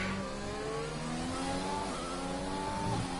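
Racing car engine in a Gran Turismo-style game lap at the Mexico circuit, a steady high-revving drone with rising harmonic whine as the car accelerates, continuous and close, with no talk over it.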